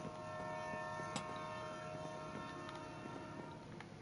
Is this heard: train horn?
yes